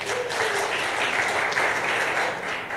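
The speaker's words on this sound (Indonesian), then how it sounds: "Tepuk tangan untuk Indonesia." An audience claps steadily in a dense, even wave of applause, close and fairly loud, with no one speaking over it.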